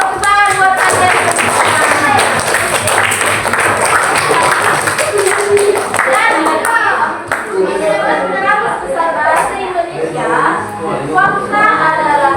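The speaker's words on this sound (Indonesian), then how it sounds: "tepuk tangan buat kalian" Students clap for their classmates in a junior high school classroom, a steady burst of applause with overlapping children's chatter and a teacher's voice throughout.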